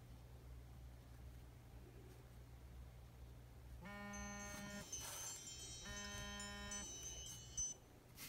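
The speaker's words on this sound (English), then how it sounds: "so that is our second alarm" A kitchen-style timer alarm goes off twice in a quiet room, each a short burst of rapid repeated electronic beeping, moderately loud over a faint low hum.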